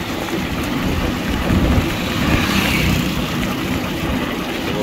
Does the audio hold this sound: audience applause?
no